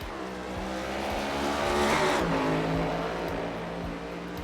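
A race car lapping Sonoma track: sustained engine drone with rising and falling pitch as it accelerates and shifts, a faint tire squeal, steady and fairly close.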